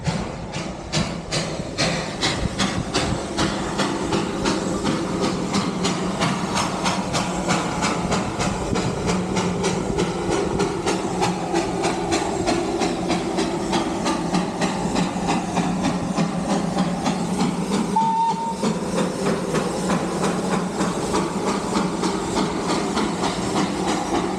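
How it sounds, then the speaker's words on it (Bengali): A train pulls away at Batasia Loop in Darjeeling, a loud continuous rumble with rapid rhythmic clatter of wheels on track running throughout, heard from close by in the open air without talk. "এই যো ধোঁয়া চাচ্ছে এখানে উই আর লাকি বাতাসের লুপে দাঁড়িয়ে দাঁড়িয়ে দেখতে পাবো সেটা আমরা ভাবিনি ট্রেন ছেড়ে দিয়েছে"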